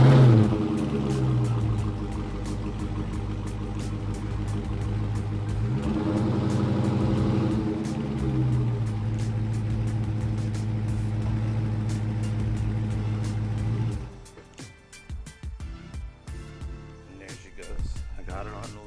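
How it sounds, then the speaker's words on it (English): A 2020 Dodge Charger Scat Pack backs slowly up onto Rhino ramps, its engine humming and rising in low revs for several seconds before cutting off into quiet clicks and shuffling. "slowly back the car up onto them"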